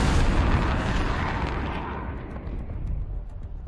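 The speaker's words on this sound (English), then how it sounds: "Here comes the missile from Prime." A missile strike in the video game Black Ops 7 on Survive the Island map, a loud, close blast whose deep rumble fades slowly over several seconds.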